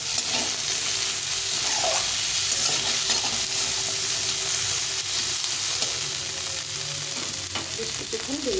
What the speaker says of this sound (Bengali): মটর আর কাবলি ছোলা আর আলুটাকে ভালো করে ভেজে নিলাম